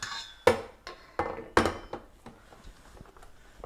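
A metal mixing bowl holding naan dough is set into a stand mixer, giving a series of sharp clanks and knocks, two of them loud, then lighter taps fading out.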